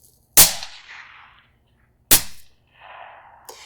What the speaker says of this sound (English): It is very rewarding to shoot 300 Blackout subsonic